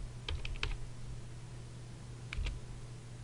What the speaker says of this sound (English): You go ahead and type father.